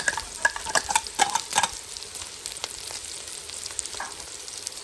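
Garlic frying in a pan while being stirred, with crisp sizzling and scraping, clattering strokes of the utensil in the first half that settle into a steady, softer sizzle.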